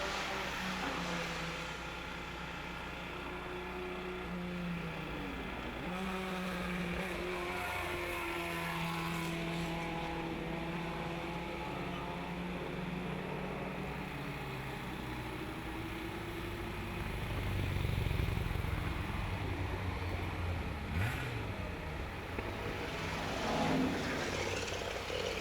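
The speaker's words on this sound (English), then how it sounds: "And the Elva Mark 1, that's car number 9." An Elva Mark 1 vintage race car, number 9, at the Pittsburgh Vintage Grand Prix roars past with a sustained buzzing engine note, revs rising and falling through gear changes, loud and steady throughout.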